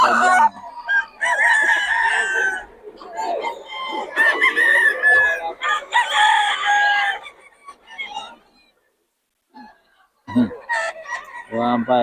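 Chickens and roosters at a crowded fowl sale in Bocaue crow and cluck loudly and close, several overlapping calls one after another, with a short quiet gap near the end.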